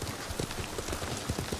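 Horse hooves in the video game Ghost of Tsushima, a quick, rhythmic clip-clop of galloping steps over a steady background hiss, moderately close with no talking.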